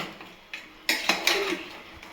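Food being mixed in a metal pot, a few short clanks and scrapes of a utensil against the pot, close and fairly loud, with quiet gaps between them.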